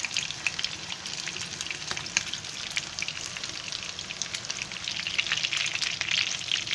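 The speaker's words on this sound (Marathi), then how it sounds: "हे मस्त फ्राय झाले आहे." Chicken pieces for chicken chili fry in hot oil, giving a continuous close sizzle with dense popping crackles and spits, steady and fairly loud throughout, with no talking.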